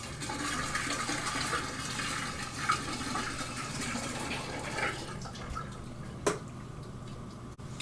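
Rehydrated creamy yeast starter pours into a container with a continuous close liquid gush and splashing, easing off toward the end with a small knock.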